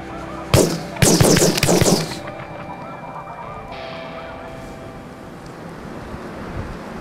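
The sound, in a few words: snow geese honking while hunting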